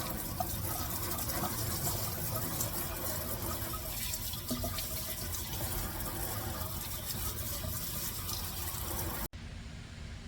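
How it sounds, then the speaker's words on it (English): Water runs steadily from a tap into a sink while canning jars are washed, a constant close rush of flow that cuts off abruptly near the end. "Just finished washing my jars"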